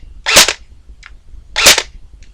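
A KWA Ronin recoil airsoft rifle running at 7.4 volts fires in two sharp, loud, close bursts about a second apart, with a faint mechanical click between them.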